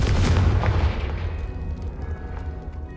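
A Confringo fire spell blasts at a brazier in Hogwarts Legacy, opening with a loud booming burst that rolls into a fading crackling rumble over about three seconds, with no talk.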